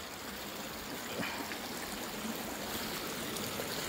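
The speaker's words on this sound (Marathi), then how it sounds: "हा बघा धबधबा," Water of the Usgaon waterfall stream rushing and splashing in a steady, continuous wash, soft and somewhat distant, with no talking over it.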